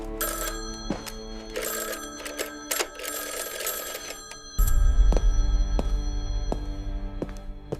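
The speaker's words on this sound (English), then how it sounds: "Then the farmhouse phone rang." A farmhouse telephone rings with a bright, repeated mechanical bell in sharp bursts. A deep low rumble comes in halfway through and continues beneath the later rings.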